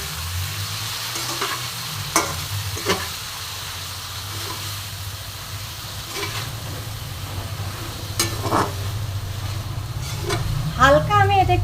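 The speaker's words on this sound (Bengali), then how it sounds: "ভালো মতন নাড়াচাড়া করে মিশিয়ে নেব" Spice paste of ground poppy seeds being stirred into a vegetable coconut curry in a pan: a continuous sizzle with scraping stirs and a few sharp utensil clicks, growing busier near the end.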